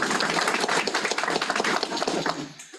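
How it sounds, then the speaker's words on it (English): An adult Sunday school group applauding together, steady dense clapping for a couple of seconds before it tapers off. "Everybody clap at Felicia."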